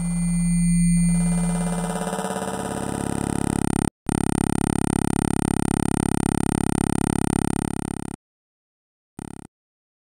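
A Cheetah MS800 digital synthesizer holds layered, buzzy sustained tones that crossfade into one another with slight wavering movement. The sound drops out abruptly, then a brief stray blip follows before silence.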